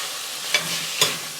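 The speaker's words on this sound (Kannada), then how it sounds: "ಕ್ಯಾರೆಟ್, ಬಟಾಣಿ ಮತ್ತು ಆಲೂಗೆಡ್ಡೆನ ನೀರಿಂದ ತೆಗೆದುಬಿಟ್ಟು ಹಾಕಿ" Carrots, peas and potatoes frying in a pan for pudina pulao, a steady close sizzle with two brief stirring scrapes, no voices.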